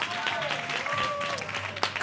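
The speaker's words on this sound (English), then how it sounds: "Clap it up for Carl" An audience at a live talk session claps and cheers briefly, a soft patter of applause with a few whoops, partly under a speaking voice.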